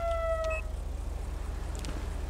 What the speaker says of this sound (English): I need to turn off the siren too